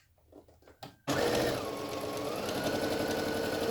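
Home sewing machine stitching forward and backward on a fabric face mask: a few faint handling taps, then a loud, steady, close mechanical whir with a rapid needle rhythm running continuously.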